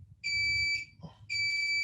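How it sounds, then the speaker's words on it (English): A device sounds two long, shrill electronic beeps with a short gap between them, fairly loud and close in a quiet room. "when things beep, you know they're important"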